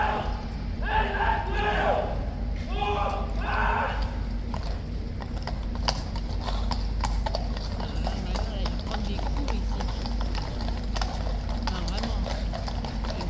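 Horses of the mounted King's Guard at Horse Guards in London, hooves clip-clopping steadily on hard ground amid outdoor crowd murmur, with people talking over it throughout.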